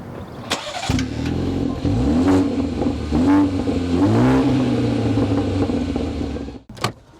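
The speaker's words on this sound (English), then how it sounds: "can you rev it for us?" A car engine starts and is revved several times, rising and falling in pitch through a few loud, close throttle blips before cutting off abruptly near the end.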